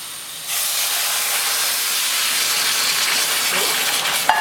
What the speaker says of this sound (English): I need a little whistling kettle for these kind of situations.